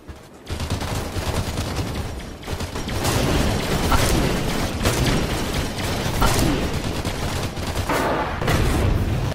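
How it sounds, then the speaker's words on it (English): Mortar shell impact on a base amid gunfire in a Halo tabletop battle scene, with dense bursts of rapid shots and crashing impacts continuing loudly after a brief quiet start. "I bet that mortar hit our base"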